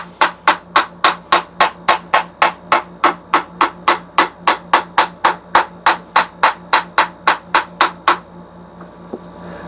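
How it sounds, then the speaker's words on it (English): Metal tool tapping on the rear end housing of a 1961 Corvair FC: about two dozen sharp, ringing knocks in a fast, even rhythm, close and loud, then stopping abruptly. "And then what I like to do is tap around on it."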